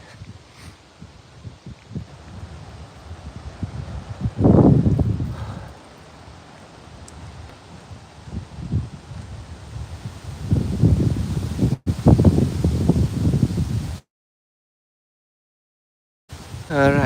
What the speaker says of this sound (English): Ah, so windy here.